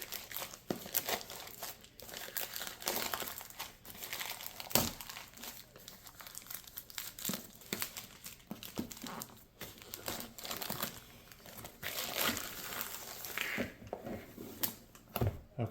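Close, continuous crinkling and rustling of plastic packaging with occasional sharper crackles and tearing, as an ImoLaza ET Master smart sprinkler controller box is unwrapped; no talking.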